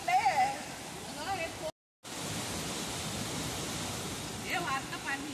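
Rushing water from a waterfall at a picnic spot, a constant broad roar close by with a voice over it at the start and end and a brief dropout in the middle.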